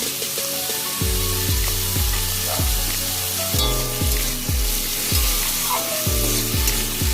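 Potatoes and onions frying in a pan give a steady loud sizzle, with repeated scraping stirs at a regular rhythm throughout.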